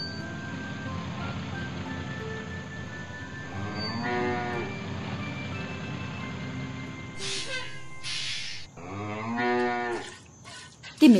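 A cartoon cow on a farm gives several drawn-out moos, each near and clear, over a soft background hum.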